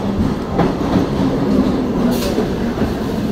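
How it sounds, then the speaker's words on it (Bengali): A suburban train bound for Sealdah pulling into Champahati station, a loud steady rumble of wheels and carriages with faint clatter and a brief high squeal, no talking. "এইমাত্র অ্যানাউন্স হলো যে শিয়ালদা যাওয়ার ট্রেন এক্ষুনি প্রবেশ করবে স্টেশনে এবং সেই মতো ট্রেন চলে আসলো।"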